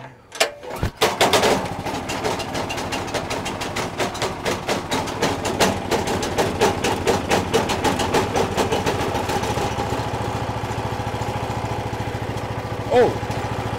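A large shop engine, rated at nearly double a 7,200-watt generator's output, cranks briefly, catches and roars into a loud, steady run with a rapid pulsing beat that continues close by throughout.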